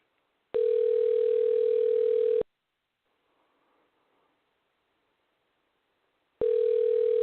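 Telephone ringback tone on an outgoing call: a steady two-second tone, a long quiet gap, then the tone starting again, heard through the line.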